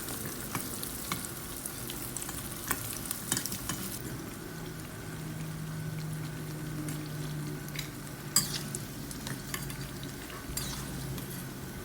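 Catfish frying in hot oil in a home kitchen, a steady soft sizzle and crackle throughout with occasional utensil clinks and stirring sounds, no talking.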